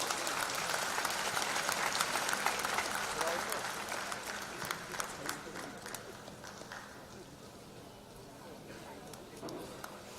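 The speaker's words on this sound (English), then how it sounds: "I'd request everyone to give a big round of applause." Audience at a felicitation ceremony for former Chief Justices and judges breaks into a broad round of applause that is full at first and gradually thins out, with scattered claps lingering and voices murmuring in the room.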